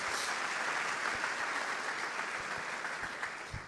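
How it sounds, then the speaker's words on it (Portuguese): Church congregation applauding couples during a Catholic homily, a dense steady clapping that fills the whole stretch and tapers slightly at the end, with no talk over it. "Quero pedir uma salva de palmas para esses casais."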